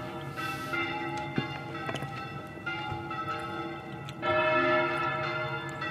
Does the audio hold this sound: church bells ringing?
yes